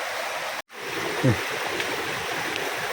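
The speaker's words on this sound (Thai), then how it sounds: "ดูฮะน้ำไหลแรงมาก" A forest creek rushes strongly past a fallen-tree crossing, a continuous close hiss of flowing water with a brief dropout near the start.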